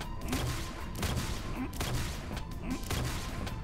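Video game gunfire rattles in rapid repeated bursts at a moderate level, with sharp regular shots running throughout the short stretch.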